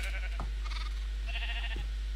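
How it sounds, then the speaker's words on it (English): Minecraft sheep bleating, two or three short wavering bleats close by over a constant low hum. "I like a black sheep"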